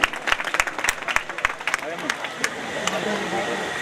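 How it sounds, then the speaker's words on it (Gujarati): Audience applause at an outdoor stage felicitation during a Gujarati katha gathering: dense clapping with sharp individual claps, loud and close at first, then thinning into a softer, steadier crowd patter as a voice murmurs underneath. "જોરદાર તાળીઓના ગગડા દાદાને સંભળાવવો જોઈએ આપણે"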